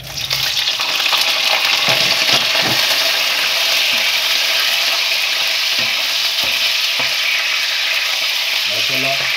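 Kofta meatballs fry in hot oil in a kadai, giving a loud, steady, dense sizzle that runs throughout with a few soft stirring knocks and no talk.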